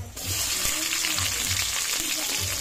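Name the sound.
sautéing onion with garlic in a pan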